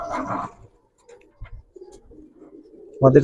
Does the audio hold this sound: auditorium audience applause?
no